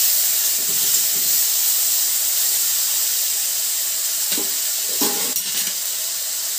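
Tomatoes and salt fry in a pan for a rui fish curry with a constant hissing sizzle, while a spatula stirs with a few clattering scrapes near the end.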